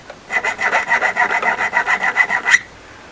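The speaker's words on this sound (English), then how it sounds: "This file's kind of rolling over it." A metal file rasps back and forth across hardened steel on a Pro Mag magazine, about a dozen quick, even strokes close up with no voices, ending on a sharper final scrape.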